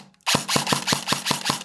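An airsoft gun fires a rapid string of about seven sharp, loud shots in an even rhythm, heard up close with no talk over it.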